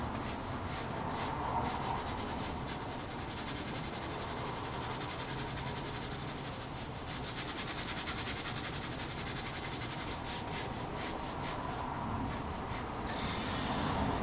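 Graphite pencil shades a dark cast shadow around a drawn sphere on paper, giving a continuous soft, scratchy rubbing of close strokes with no talk.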